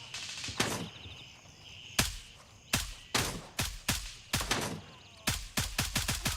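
Gunfire in the video game Gray Zone Warfare: loud, sharp rifle shots with echoing tails, first single shots spaced out, then quick bursts of several rounds near the end.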